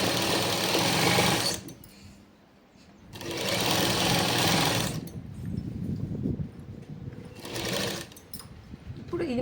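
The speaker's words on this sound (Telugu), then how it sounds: "ఇలా కలిపేసి కుట్టు స్టార్ట్ చేద్దాం." A sewing machine stitches a Punjabi dress in three loud, steady bursts, each running a second or two, separated by quieter pauses filled with handling noise.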